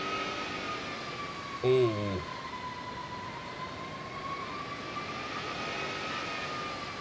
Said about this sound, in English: I'm a fan of the growl from those engines.